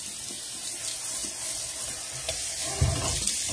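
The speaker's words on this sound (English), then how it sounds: "just going to come in and rinse all that right into my sink" Water runs steadily from a tap into a sink as a mop is rinsed under the stream, a broad continuous splash with a few louder sloshes near the end, close by and with no talking.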